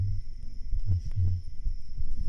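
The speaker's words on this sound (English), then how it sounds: "When I have the heartbeat going?" A simulated heartbeat thumps low and steady in a few soft double beats, with a faint constant hum running beneath it.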